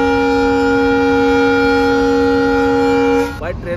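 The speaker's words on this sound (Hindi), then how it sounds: "ट्रेन की हॉर्न की आवाज क्या भयानक लगती है।" A train horn blares loud and close in one long, steady, tonal blast that cuts off sharply near the end, leaving rumbling noise.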